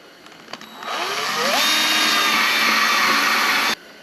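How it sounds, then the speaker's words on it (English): A power drill whines steadily as it bores holes into a wooden jig for making a bowstring, the motor rising to a sustained high-pitched drone for a few seconds before cutting off. "I'm going to drill a hole out on all 16 of them holes."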